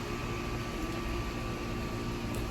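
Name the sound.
building air conditioning units running nearby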